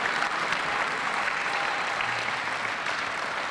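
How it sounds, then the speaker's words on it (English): A steady round of applause from a crowd greeting basketball player Jae Crowder in Springfield, loud and sustained throughout without any speaking. "a round of applause for Jae Crowder"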